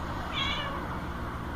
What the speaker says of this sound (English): Meow, that's right, Valkyrie.